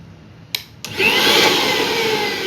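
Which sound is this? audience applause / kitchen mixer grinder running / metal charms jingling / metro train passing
kitchen mixer grinder running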